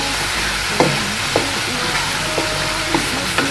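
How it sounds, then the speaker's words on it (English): Baby corn stir-fried in a hot pan, giving a steady loud sizzle with several sharp stirring knocks and scrapes spaced through it. "At this stage I'm going to add these baby corns because they take a bit longer to cook."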